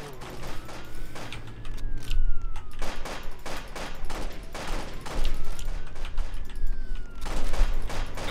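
Repeated gunshots ring out in Roblox Jailbreak, a steady stream of sharp cracks over a droning game background and music tone, fairly loud and continuous across the whole stretch.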